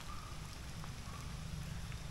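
Steady rain falls outdoors in a rural province on Tablas island, a continuous near, even patter and hiss with no talk over it.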